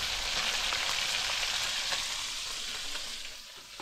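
Oil sizzles and crackles steadily as fish fries, a close, continuous hiss that eases slightly toward the end.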